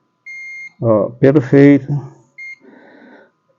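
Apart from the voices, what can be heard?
multimeter continuity beep testing capacitor on phone board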